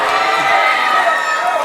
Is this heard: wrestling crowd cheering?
yes